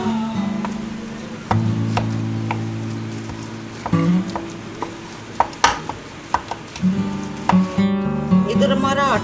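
A spoon works through a spiced kachori filling in a pan, giving scattered scrapes and knocks against the metal with irregular clatter, heard close and fairly loud, with tonal hum from other sounds in the kitchen.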